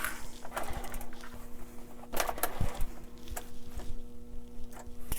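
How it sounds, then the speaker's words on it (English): A sewing machine hums steadily with fast, uneven clicking and tapping as it stitches a fabric crop top for an 18-inch doll. "And then we want to do the other side. And sew it down."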